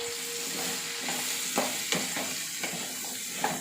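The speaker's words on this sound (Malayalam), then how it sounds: "ഒന്ന് ഇളക്കട്ടെ." Cucumber and carrot fry in oil for a vegetable curry while a spoon stirs them, a soft, quiet sizzle punctuated by a few scraping knocks against the pan.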